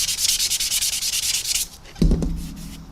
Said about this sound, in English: take my sanding stick, just take away the raised area